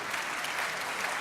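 A crowd of seniors applauds at a mayor's New Year greetings event, a dense, steady burst of clapping that fills the room close by.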